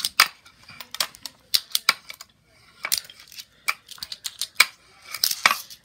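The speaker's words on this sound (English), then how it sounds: "I can do some grinds." A fingerboard grinds and slides along a small ramp in a series of sharp, close clacks and short scraping bursts, each separated by brief pauses.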